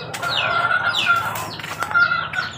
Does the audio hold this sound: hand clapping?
no